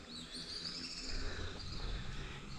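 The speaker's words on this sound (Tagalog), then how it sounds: "Dami lang ibon." Many birds chirp in a mountain forest at Mt. Lawad, their faint high calls layered over a steady wash of outdoor ambience.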